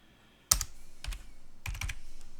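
Computer keystrokes on a keyboard while an IP address is entered for an SFTP connection, several quick clicks in two short bursts with a pause between, close and fairly quiet with no voice.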